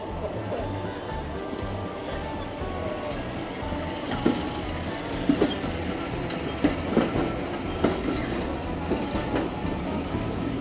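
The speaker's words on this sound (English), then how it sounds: "the train is going" Swanage Railway heritage train pulling away from the platform, with steady rolling rumble and rhythmic clickety-clack of wheels over rail joints building up, close and continuous for the whole stretch.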